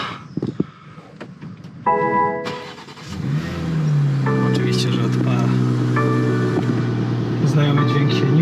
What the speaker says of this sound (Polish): Zobaczmy, czy ten samochód odpala.